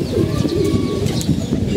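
Pigeons kept in a low-roofed home loft with young birds coo in a continuous low, throaty murmur, several birds overlapping at close range with faint chirps above.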